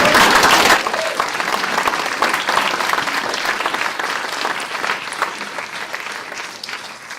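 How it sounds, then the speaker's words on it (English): A live audience at a PechaKucha Night event applauds improvisers, opening with a loud burst of clapping and cheering that settles into steady, gradually fading applause. "I want to give our improvisers a huge round of applause"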